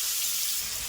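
Masala paste frying in hot oil for a spicy gravy fish fry, giving a steady, close hiss that holds level throughout, with no talking.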